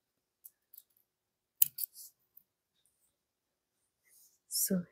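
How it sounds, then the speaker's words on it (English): Scissors snip beading thread in a few quick, soft, close cuts while making a beaded hoop jhumka earring, with quiet pauses between the crisp clicks. "just cut the thread off."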